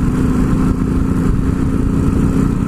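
A motorcycle on a touring trip in Norway rolls onto a gravel road, its engine a loud, close, steady rumble with rough low-end texture and no voices.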